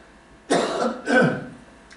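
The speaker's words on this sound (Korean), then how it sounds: "제가 지금 자꾸 기침이 나와서" A preacher at a night worship service gives two rough, breathy coughs in quick succession, close and moderately loud against a quiet background.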